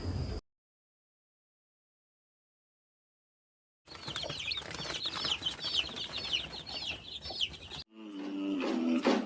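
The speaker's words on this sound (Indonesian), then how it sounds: "Ayam yang pernah kelokor atau pilek, dengeran kan suaranya kelokor." A rooster with a cold makes rough, rattling breathy vocalizations up close, a raspy stretch of sound after a long silent gap, followed by a short burst of clucking.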